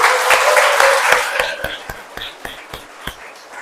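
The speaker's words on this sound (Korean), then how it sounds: "힘내서 살아가시라고 박수 한번 쳐드릴게요" Congregation in a Catholic parish church in Seoul claps together, a dense burst of applause that thins into a few scattered, sharp individual claps before fading out.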